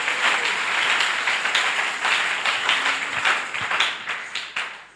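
A church congregation applauding in praise, steady dense clapping with many sharp individual claps, moderately loud and sustained throughout, no speech over it.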